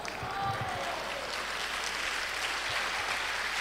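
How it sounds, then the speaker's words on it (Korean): A church congregation at a pastors' conference in Korea claps together, a dense, sustained patter of applause filling the room. "여러분은 박수치지만"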